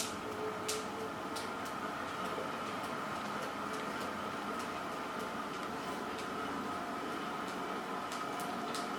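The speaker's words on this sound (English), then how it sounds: "The clicking noise you hear there is the straps from the cages. They're hitting the floor." Light, irregular clicks and taps repeat over a steady mechanical whir, as loose pedal cage straps strike the floor while the cranks turn on a Keiser M3i indoor exercise bike.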